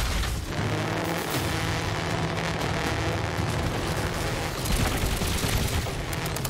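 Airship guns in Trailmakers fire in a continuous roaring barrage, loud and dense with booming rumble throughout, thick enough to sound like a wall of blasts.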